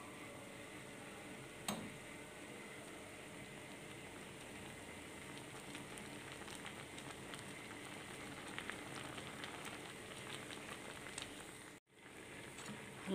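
Apple compote simmering in a pot on the stove, a soft steady bubbling and crackle running continuously at low level, with one brief sharper tick partway through and a short dip near the end.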